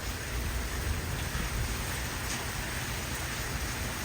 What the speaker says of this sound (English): The rain was coming right in the front door as I opened it.